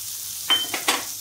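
Three quick stirs of fig chutney with raisins, dried mango and dates in a pan, soft scraping strokes over a faint sizzle, close and quiet.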